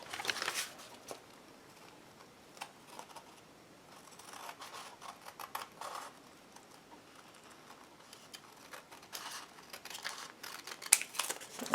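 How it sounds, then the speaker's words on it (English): Scissors snip through a paper envelope during altered-book crafting, with several crisp close cuts and light paper crinkling spread across the clip, no voices. "I'm going to take some scissors and I'm going to trim that off"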